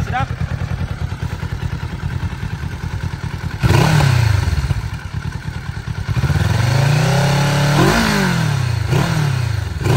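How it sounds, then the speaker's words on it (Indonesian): A 2023 Kawasaki Z650 motorcycle idles with a rough, loud exhaust note close by, then revs repeatedly with rising and falling sweeps of pitch, several blips in a row. "So kita dengar bunyi exhaust, sedap tak sedap?"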